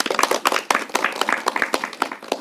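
Audience applause at a Chhau dance troupe event: dense, continuous clapping from a crowd, fairly close and steady throughout with no voices over it.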